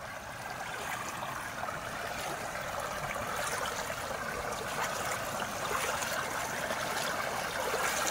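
Knee-deep floodwater on a residential road flows in a continuous rushing wash, steady and fairly loud, with no voices.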